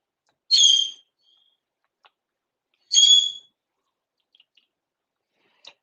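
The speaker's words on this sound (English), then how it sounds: "the bird's talking to himself" A pet bird indoors gives two short, bright chirping calls about two and a half seconds apart, with a few faint clicks and near silence between them.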